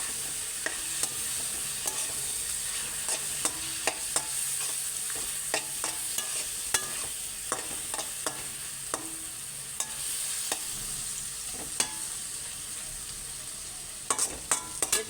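Pizza sauce in a pan is stirred with a string of quick metallic scrapes and taps against a constant sizzle, the strokes clustered and irregular, rising to a flurry at the end.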